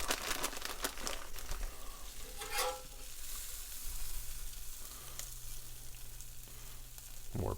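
A chorizo smashburger patty sizzling on a griddle, a steady close crackling fry with bursts of scraping and crinkling, no talk.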